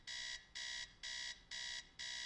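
An alarm clock rings in five evenly spaced electronic beeps, each bright and buzzy, steady and alone in a quiet room from the film Half Nelson.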